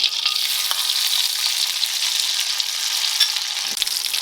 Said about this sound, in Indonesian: pertama kita akan goreng dulu terasi dan garam